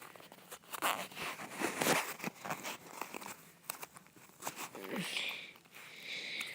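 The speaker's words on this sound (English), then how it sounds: "Hear that zipper noise." A zippered fidget toy case unzipped with one hand gives a run of scratchy, rasping zip strokes, close and moderately loud, mixed with crinkly handling noise and no talking.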